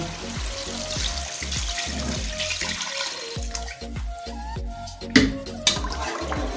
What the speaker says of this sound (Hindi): अब मैं 4 गिलास पानी डाल रही हूँ